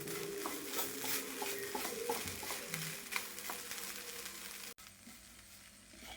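Masala thoran with soya stirred in a pan, a close, quiet sizzle with a run of soft rhythmic scraping and tapping strokes from the stirring, with no voices.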